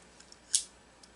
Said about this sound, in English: Cock the hammer